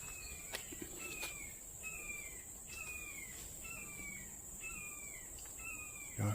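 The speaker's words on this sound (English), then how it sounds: "Y'all hear that hawk?" A hawk gives repeated descending screeches at a steady pace over a constant high insect drone in a marshy impact-crater wetland, calling from middle distance with no talking.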